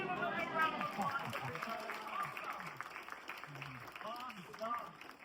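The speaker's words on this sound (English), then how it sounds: "Give him a big round of applause." An audience at a magic show applauds, the clapping fairly soft and distant with someone talking loudly over it throughout.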